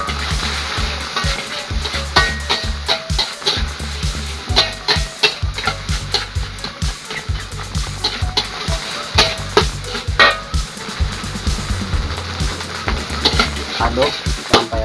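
Nasi goreng with butter, kencur, ginger and sweet soy sauce is stirred in a hot pan, a continuous sizzle broken by rapid, uneven scraping and clattering strokes of a spatula.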